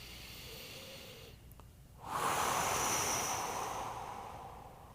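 Slow breathing during a bedtime mobility knee stretch, a soft airy exhale swelling in the second half over faint steady background hiss, close and quiet, with no talking.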